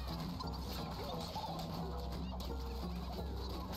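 A chicken clucks faintly in the farming shooter game Atomic Crops, its calls buried in a dense bed of game music and mechanical noise.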